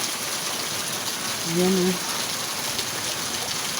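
A strong flow of water runs steadily while plants are being watered under a shelter, a loud continuous hiss and rush throughout, with someone briefly speaking over it.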